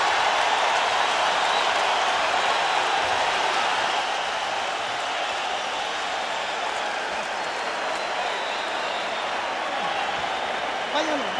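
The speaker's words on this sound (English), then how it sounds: "The crowd comes alive here at Staples Center." Boxing crowd at Staples Center cheering between late rounds of Erik Morales versus In-Jin Chi, a continuous loud roar of voices and applause holding steady throughout, with a commentator talking underneath.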